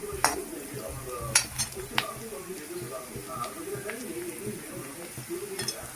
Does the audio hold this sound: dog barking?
no